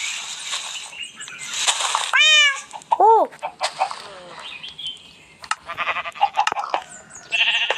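Repeated Minecraft cat meows, some rising and falling, mixed with chirpy synthetic tones and bleat-like calls, fairly close and clear with no talking.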